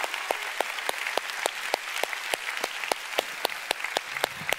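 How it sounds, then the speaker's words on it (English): Church congregation applauding during a sermon: a wash of many hands clapping, with sharp, distinct claps standing out in a quick, fairly regular rhythm, moderately loud and close, with no speech. "let's give the Lord a big hand"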